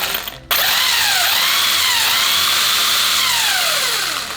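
A DIY-battery RC car motor runs at full speed, a loud close whine that starts abruptly and holds steady, its pitch gliding up and down in sweeps for several seconds before easing off slightly.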